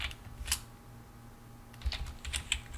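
Someone types on a computer keyboard with scattered, quiet clicks and a few sharper key taps in short bursts near the end, close but soft, with a low steady hum behind.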